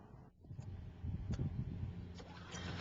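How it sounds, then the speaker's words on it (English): A Toro Greensmaster 1000 greens mower engine starts, and its low, rough rumble builds after a brief dip into a steady, close running note. "When you're ready, start the engine."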